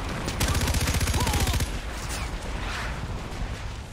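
Rapid automatic gunfire in the Far Cry 4 video game, a loud, fast, steady burst lasting about a second and a half, followed by a busy rumbling game backdrop.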